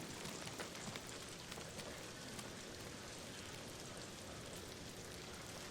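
A soft, steady hiss of rain falling on surfaces in the video game Ghost of Tsushima, faint and continuous, with no voices.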